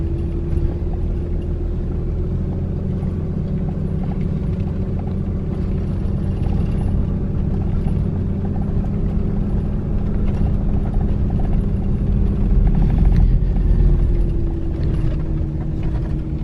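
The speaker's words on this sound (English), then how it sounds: "It's Derek's truck" A truck rumbles across a temporary steel bridge spanning a creek, a steady loud low engine drone with mechanical rattling and clanking from the deck, swelling slightly near the end; no talking.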